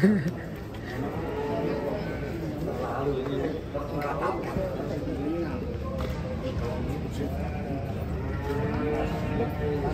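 Cattle, including limousin, moo repeatedly after coming off a truck, the long lowing calls rising and overlapping over a constant rumble of background noise and distant crowd chatter.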